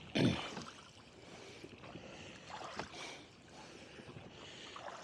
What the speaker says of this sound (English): Here's that gust.